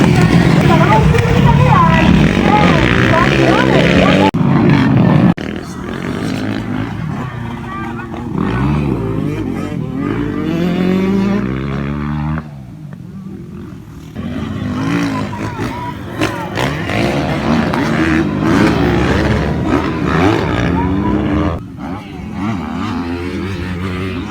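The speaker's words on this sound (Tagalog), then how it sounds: "At napakagaling nilang magpatakbo ng motor." Motorcycles racing and revving at an outdoor motor show in San Pablo, Isabela, engines rising and falling in pitch as bikes pass, loud and near, with a person talking excitedly over them.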